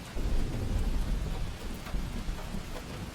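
Heavy rain pours steadily as a loud, continuous broadband hiss, with deep thunder rumbling underneath throughout.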